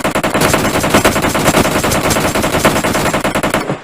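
Rapid automatic gunfire from the mobile battle royale game PUBG Mobile, loud and sustained in tight bursts across the whole moment, with no talk over it.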